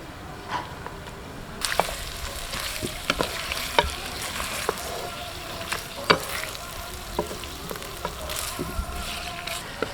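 Chicken sizzles and crackles steadily in a hot kadai while making biryani, with occasional clinks and scraping stirs, close and moderately loud, no talking.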